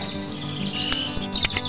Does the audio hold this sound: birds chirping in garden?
yes